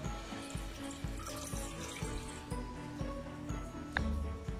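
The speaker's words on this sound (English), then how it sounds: "Add 1 cup of water into your pot." Tap water runs into a pot in a kitchen, a continuous splashing stream with faint ticking in the background.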